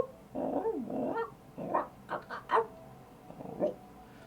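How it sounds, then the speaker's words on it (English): Hunting gnolls whoop and howl in a fantasy tabletop D&D campaign soundscape, a run of several close, wavering, growling calls that rise and fall in uneven bursts with short gaps between them. "You begin to hear whooping, calling, howling,"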